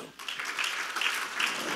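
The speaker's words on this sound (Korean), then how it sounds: "지금도 경련을 일으키고 나간 걸 본 사람만 박수 쳐요." A church congregation at a Sunday worship service claps together, a dense, steady wash of hands that carries on for the whole stretch, fairly loud and close, with no one talking.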